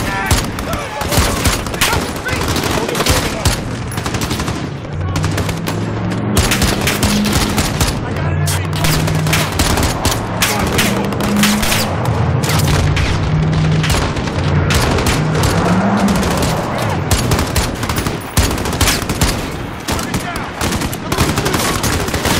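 Grenade blast and heavy sustained gunfire in a Call of Duty: Modern Warfare (2019) battle, loud dense volleys of rapid automatic shots and booms filling the whole stretch, with voices shouting over the din.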